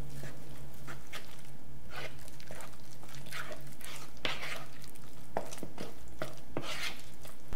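Choux pastry dough is being mixed with eggs by hand, producing irregular wet slapping and scraping strokes against a bowl, close and moderately loud, with no talk.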